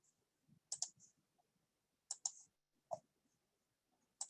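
Keystrokes on a computer keyboard as a value is typed in, heard as a few sharp clustered clicks in short bursts separated by quiet pauses, fairly close and fairly faint, with no talking.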